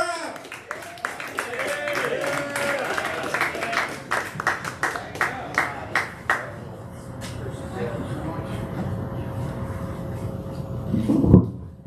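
Applause and scattered clapping from a small audience at an open mic comedy night in a coffee shop, rising in a burst of claps in the middle and fading into room chatter, with people talking throughout.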